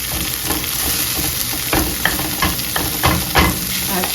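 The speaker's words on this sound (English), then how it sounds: "Stir it up so it can get the garlic flavor." Tofu scramble with garlic being stirred in a frying pan, a steady sizzle with a run of scraping spatula strokes every half second or so, close and fairly loud, no talking.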